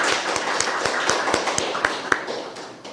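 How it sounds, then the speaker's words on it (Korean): A church congregation claps together in encouragement during a Korean worship service, a steady run of sharp, even hand claps lasting a few seconds and filling the room. "우리 집사님 잘 적응하실 수 있도록 한번 격려의 박수를 한번 하시죠."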